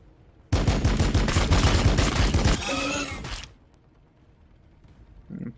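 A loud burst of rapid gunfire from units firing in the Warhammer 40K Battlesector video game, a dense chattering volley lasting about two seconds that shifts into a ringing mechanical tail before cutting off to quiet.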